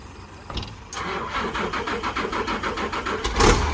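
A ten-wheeler truck engine cranks with a rapid, rhythmic starter chug for a few seconds, then catches and roars up loudly close by.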